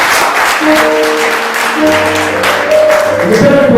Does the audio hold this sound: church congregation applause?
yes